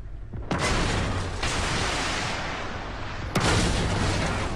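Tank cannon fire in the game Armored Warfare: two sharp, loud booms about three seconds apart, each followed by a long rumbling roar of battle noise, with no talk.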